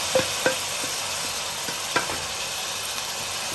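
Tomatoes frying with beef liver in a hot pan, a constant hiss of sizzling oil broken by a few scraping stirs of the spoon, close and continuous.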